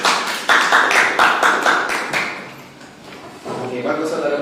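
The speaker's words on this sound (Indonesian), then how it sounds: "Tepuk tangan dulu" A classroom of students claps together in a steady rhythmic pattern of sharp, evenly spaced hand strikes, then the clapping trails off and quieter speech-like sound follows.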